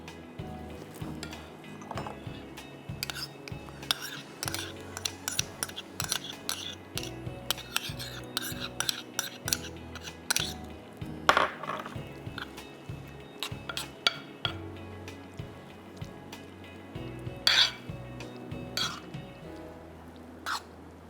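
Ground green chillies go into a pot for chicken biryani and are stirred, giving repeated light clinks and scrapes of a utensil against the pot at an uneven rhythm, close by.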